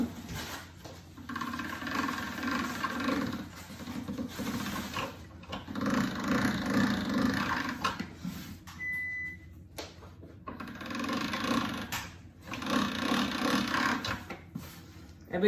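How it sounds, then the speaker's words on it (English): Squid ink pasta dough is fed through a hand-cranked pasta machine, a close, repeated rattling, clicking whir in several bursts separated by brief pauses, with no speech over it. "Every time we run it through the pasta machine, I always like to run it twice."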